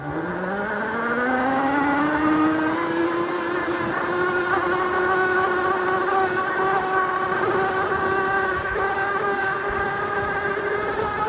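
A Cemoto D02 budget electric motorbike rides off-road at about 30, its motor whining in a steady high pitch that climbs at first and then holds, loud and close, with no talking.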